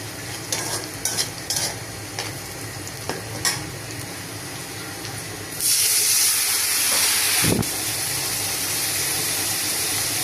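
Onions fry and are stirred in a pan, with scraping taps of a spatula at first, then a loud, steady sizzling hiss that swells up and holds close by.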